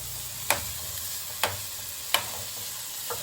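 Boiled chicken with fried tomato and onion sizzles steadily in a pan, broken by three or four sharp scrapes of a stirring spoon, close and fairly quiet.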